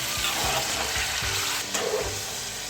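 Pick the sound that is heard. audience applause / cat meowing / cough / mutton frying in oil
mutton frying in oil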